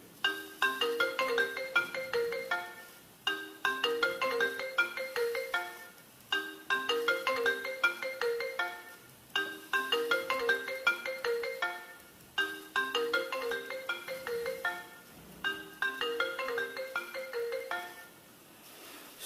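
A melodic Android phone ringtone plays alone, its short jingle repeating about six times in a steady loop at moderate volume.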